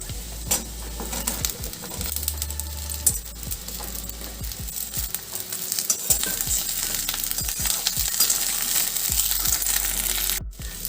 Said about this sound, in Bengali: হাই ফ্লেমে 2 মিনিট ভেজে নেব